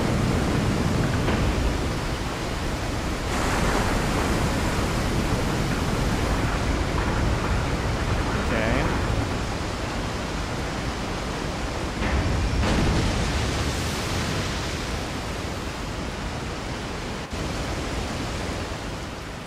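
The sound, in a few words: waterfall in the video game Resident Evil 4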